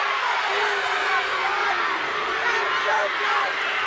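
Crowd at a women's college soccer championship match, North Carolina against UCLA, a dense, steady roar of many voices filling the stadium, loud and continuous without distinct claps or pauses.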